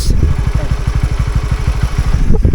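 A Honda Winner X motorcycle runs close by near Agas-Agas Bridge in Southern Leyte, its engine giving a steady, rapid low thumping pulse that stays loud and even throughout.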